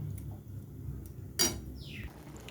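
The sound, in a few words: covering the cooking pot with a lid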